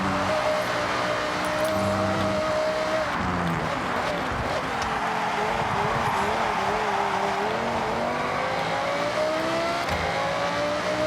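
Audi R8 GT V10 in rear-wheel drive, from Forza Horizon 6, screams at high revs past 8,000 RPM with rising and falling pitch through gear changes, plus brief tire squeal, loud and continuous with no talk.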